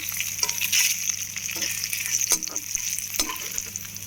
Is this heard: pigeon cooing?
no